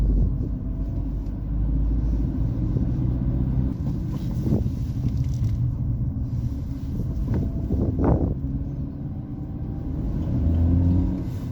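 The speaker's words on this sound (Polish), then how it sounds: "delikatnie słychać szum silnika" Steady low engine hum and road rumble from inside a moving Dacia Duster II with a 1.6 SCe 115 hp engine, continuous and moderate, with faint wind noise and no talking.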